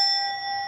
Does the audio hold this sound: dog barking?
no